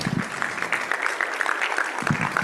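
A light golf clap from a health equity summit audience, scattered, soft hand claps in a loose rhythm, fairly quiet and short.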